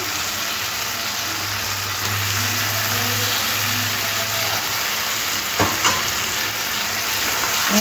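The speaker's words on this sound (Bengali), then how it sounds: "এখানে মশলার মধ্যে চিকেনগুলো দিয়ে দেবো।" Chicken pieces sizzle and fry in roasted spice masala for chicken maharani, a steady close hiss with occasional stirring scrapes, no talking.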